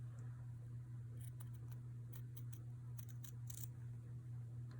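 Scissors snip through layers of netting and backing fabric during hand-stitching trim work: a series of short, faint crisp cuts in an irregular rhythm over a steady low hum, with no talking.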